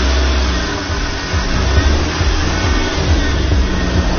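A car with a traction device fitted revs its engine while trying to climb out of a pit, a loud, rough, continuous drone with pulsing low rumble.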